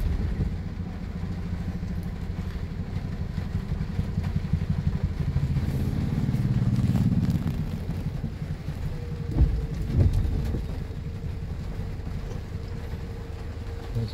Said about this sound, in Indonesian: Sana masih hujan deras